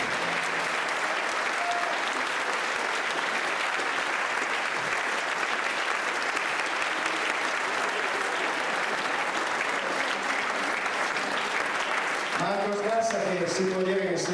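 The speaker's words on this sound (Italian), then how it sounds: "dobbiamo accogliere con un grandissimo applauso il maestro della nostra banda" A crowd at a town music festival gives sustained, dense applause to welcome the local band's conductor. The clapping runs steady and full for most of the stretch, then thins out near the end as a voice begins to speak.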